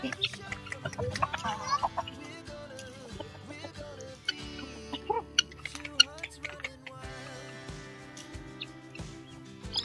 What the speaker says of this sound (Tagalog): So, ito yung manok.